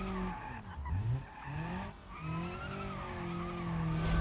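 Race car tires squealing under late braking in BeamNG.drive, a sustained wavering screech over engine tone that slides and rises in pitch across a few seconds, loud and close.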